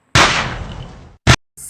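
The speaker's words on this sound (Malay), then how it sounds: "tiba-tiba terdengar bunyi tembakan." A gunshot sound effect in an illustrated children's story: one loud sharp blast with a long decaying tail, followed by a short second crack and a faint trailing burst, with no voices.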